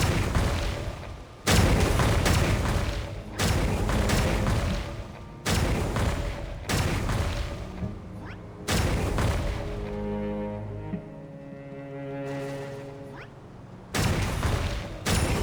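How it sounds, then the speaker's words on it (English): A secret source beam cannon in the video game Genshin Impact fires repeatedly, loud booming blasts in bursts separated by short gaps, with ringing electronic tones and rumbling effects between shots. "Manually operate the secret source cannon to counter the abyss."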